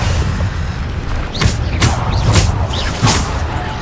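Spell blasts from Bombarda and other combat spells in Hogwarts Legacy crack out in a quick series of about five sharp, loud bursts over a continuous low rumble of battle noise.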